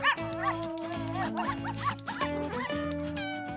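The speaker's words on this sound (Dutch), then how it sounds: "Oh, deze puppy's zijn niet erg blij." Cartoon puppies bark and yip repeatedly at a cat, with rapid bursts over a musical backing that runs throughout.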